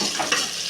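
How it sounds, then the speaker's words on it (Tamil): Whole small onions frying in a pan, a steady close sizzle with a brief stir partway through. "வெங்காயத்தை நல்லா வதக்கிக்கலாம்."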